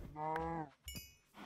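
A blocky Minecraft cow gives a long, loud moo followed by a shorter, higher moo. A faint lowing continues at the end, with nothing else around it.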